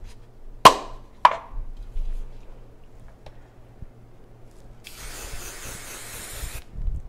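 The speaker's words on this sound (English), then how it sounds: "We can hairspray it really quick so that you can see how we do that." A short hiss of hairspray from an aerosol can misted over braided hair, near and moderately loud, following two sharp clicks and quiet handling.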